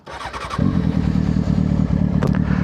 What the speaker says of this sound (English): The bike is ready to go. You are ready to start this bitch.